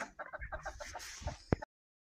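A hen and chicks on a small village farm cluck in a quick, rhythmic series close by, ending with a short louder squawk before silence.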